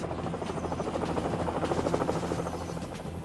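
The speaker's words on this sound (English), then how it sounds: "Helicopter gunships soon arrived to assist." Helicopter gunships arriving in combat, their rotors making a steady, loud, pulsing chop that holds throughout with a buzzing engine whine.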